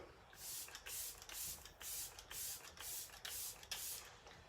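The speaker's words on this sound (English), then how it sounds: "Refreshing spray." Short repeated bursts of a fine makeup setting spray, about eight quick pumps in a steady rhythm, close and clear with faint background noise.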